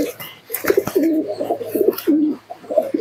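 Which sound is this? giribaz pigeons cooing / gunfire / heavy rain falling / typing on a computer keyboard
giribaz pigeons cooing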